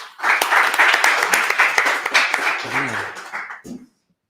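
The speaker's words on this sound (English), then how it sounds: "Round of applause." An audience at a live fan event gives a short round of applause, close and lively clapping that swells quickly, holds for a few seconds, then dies away with a brief sound at the end.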